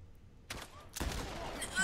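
Gunshots in The Last of Us Part I, two sharp loud blasts about half a second apart, followed by ringing game noise under low voices.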